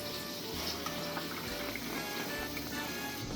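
Water poured from a can into a pot holding tomato paste for Italian gravy, a steady low splashing and trickling wash that runs throughout without pause.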